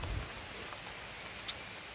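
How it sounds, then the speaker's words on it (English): Steady rain falling along the Appalachian Trail during a thru-hike, a faint, even hiss of patter with no voices. "It's just steady raining."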